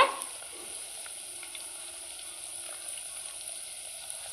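Garlic and cumin seeds frying in a pan for tamarind chili paste, a steady, fairly quiet sizzle and hiss that holds evenly throughout with faint scattered crackles.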